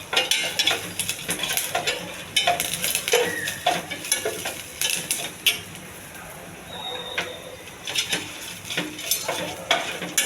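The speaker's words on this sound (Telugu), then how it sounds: "కరివేపాకు, కొంచెం బాగా వేగించుకోవాలండి దోరగా." Curry leaves crackle in hot tempering oil for pesarapappu pongal, with bursts of sizzling and spattering that rise and fall alongside clanking spoon-on-pan stirring, close and fairly loud, without speech.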